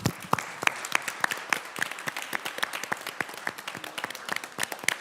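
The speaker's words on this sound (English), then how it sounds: "And we will applaud them." Applause for budget staff at a county commission meeting, with scattered individual claps forming a moderate, uneven patter that carries on without talk.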